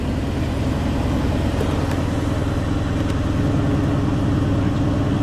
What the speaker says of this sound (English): I can hear the exhaust changing.